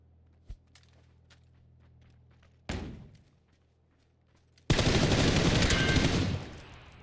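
Gunfire during a PUBG video game gunfight: a lone thump, then a short crashing burst, and a dense, loud, sustained barrage of shots that fades near the end, with no talking.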